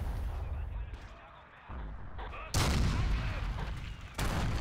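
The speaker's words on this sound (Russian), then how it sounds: "Это моя граната была." Grenade explosions in the Forgotten Hope 2 video game, loud broadband blasts with a booming, sustained roar, one starting partway through and another near the end, with muffled battle noise before.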